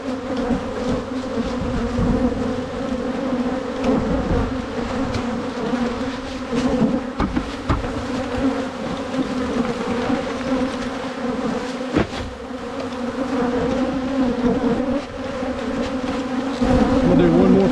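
Agitated honeybees buzz loudly as they are tapped off a brood frame onto a hive cover and dumped into a mini mating nuc, a dense, close, continuous drone with a few sharp knocks and no speech.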